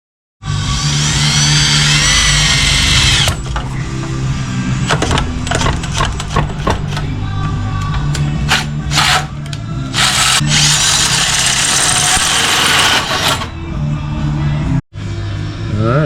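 A hole saw bores through the sheet-metal firewall of a '94 OBS truck during an LS swap, a loud, close, grinding whine in long sustained bursts broken by short stops, pauses and clatter.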